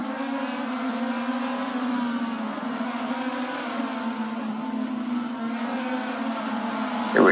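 Race cars lapping a speedway track in the closing laps of a race, a steady sustained engine drone with harmonic whine, fairly loud and continuous with no talk over it.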